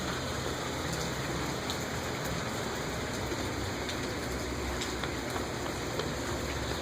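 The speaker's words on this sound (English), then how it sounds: "It's raining." Steady rain falls outdoors in a dense, even hiss of drops with scattered louder taps, continuous and close throughout, with no one talking.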